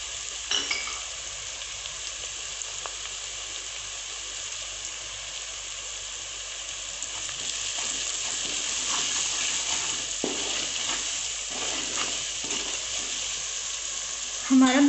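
Tomatoes and spices fry in a pan for a mixed vegetable curry, giving a continuous close sizzle with occasional stirring scrapes and light utensil clinks throughout.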